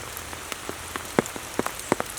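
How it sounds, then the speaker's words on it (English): Rain falls outdoors at a shooting range during a test of Troy A4 rifle grips, with steady pattering and scattered louder drops tapping close by on a surface, no voices. "Rain isn't something that you can really control"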